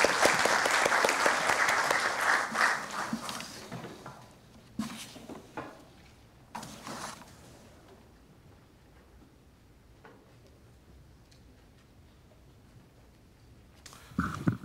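Audience applause welcoming the president of the Korean Planning Association to the podium at the opening ceremony of a KOTI research forum, loud and dense at first, then thinning into scattered claps and quiet before a brief burst near the end.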